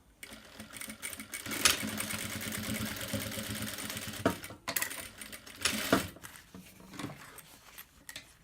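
A sewing machine topstitches a round fabric bag, running in a steady mechanical buzz with brief pauses and restarts, fairly close and alone without talk.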